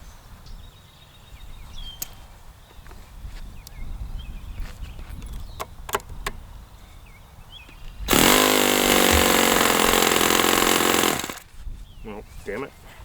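A Magnum XL 30 RFS model engine screams loudly and steadily for about three seconds at a one-turn-open setting, then cuts out abruptly, with quieter background noise before and after.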